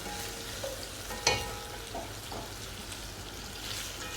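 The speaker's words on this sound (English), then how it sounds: "I fry my panla and my catfish" Panla (stockfish) and catfish fry in a pan for Nigerian ogbono soup, giving a steady close crackling sizzle with a sharp pop near the start and scattered spits, no voices.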